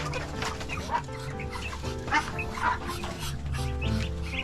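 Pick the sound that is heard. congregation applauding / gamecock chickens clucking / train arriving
gamecock chickens clucking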